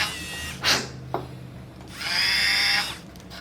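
A dental drill boring 2.2 mm holes for Straumann BLX implants whines in a few short bursts, quiet and close, with a longer high whir near the end.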